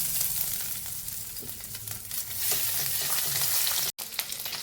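Crushed ginger fries in hot oil in a wok, giving a steady, close sizzle with light stirring scrapes and a brief cut near the end.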